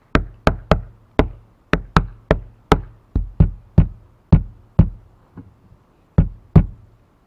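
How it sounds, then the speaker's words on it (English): Knocking on the outside of a car to wake a 70Mai A800s dash cam's parking surveillance mode: about sixteen sharp, loud knocks in irregular bursts with short pauses, close to the microphone and without talk. "I'm knocking until the light is on"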